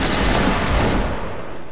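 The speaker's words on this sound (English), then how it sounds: "Give him a last volley." Musket volley from line infantry in a regimental battle game, a loud dense crackling burst of many shots merging into one rolling blast that fades quickly.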